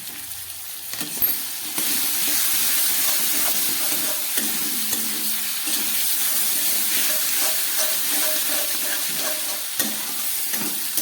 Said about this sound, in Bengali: আদা আর লঙ্কাটাকে ভালোভাবে কষিয়ে নিচ্ছি।